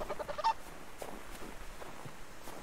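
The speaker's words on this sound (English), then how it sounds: "Chickens." Chickens clucking and squawking nearby in short, uneven bursts, with one louder honking call and scattered quieter noises.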